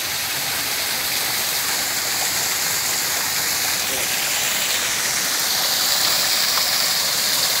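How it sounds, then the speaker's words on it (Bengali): Lalghat waterfall near Tekerghat pours in a continuous loud rushing hiss, close and steady throughout with no talk over it. "এটা সেই লালঘাট ঝর্ণা।"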